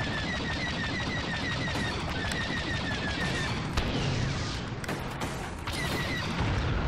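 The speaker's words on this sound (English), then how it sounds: "Who's shooting at me?" Blaster and gun fire in Star Wars Battlefront 2 crackles through a dense battle din, with repeated whistling tonal shots, scattered bursts and mechanical clanks mixed over a constant rumbling background, and no voices.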